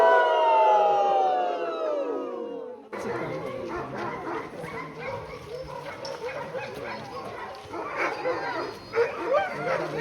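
Sled dogs in Denali howl together in rising, wavering tones at first, then a chorus of excited yips, whines and barks continues with background commotion.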